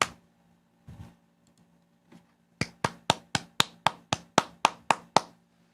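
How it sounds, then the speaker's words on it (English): A few people clap for Nathan, starting after a pause with a short run of about a dozen evenly spaced, sharp claps close by that carry on to the end. "Everyone give a little applause to Nathan."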